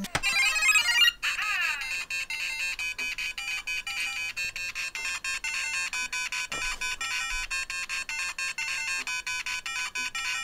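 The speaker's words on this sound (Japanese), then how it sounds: "おお、無敵の BGM だ、これすごい" A Lego Super Mario interactive figure from the 71383 Wiggler's Poison Swamp set plays its bright, fast electronic invincibility-star tune, looping in rapid chiming notes, loud and close, with no talking.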